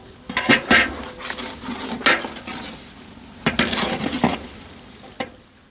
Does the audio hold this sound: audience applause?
no